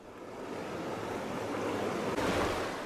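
Rain-swollen Murgul stream rushing after heavy rainfall, a steady, dense roar of turbulent water heard close and continuous for the whole stretch, with a brief surge in intensity near the end.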